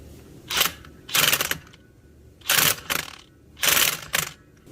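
Pneumatic impact gun on a medium setting bumping a bolt tight while installing a gear reduction, giving four or five short, loud rattling bursts separated by brief pauses.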